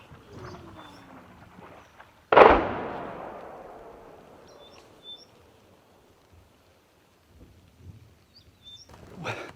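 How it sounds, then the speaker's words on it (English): Artillery shells and rockets exploding on a front line near Donetsk, Ukraine, with one loud distant boom and a long rumbling decay, then faint scattered thuds and rustling outdoors. "they fire some shells, rockets at a certain location"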